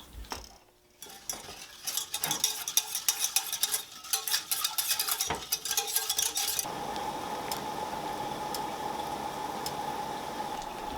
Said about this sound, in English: all you do is stir in the sugar until it is dissolved